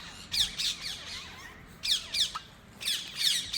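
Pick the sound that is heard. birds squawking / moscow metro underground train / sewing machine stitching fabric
birds squawking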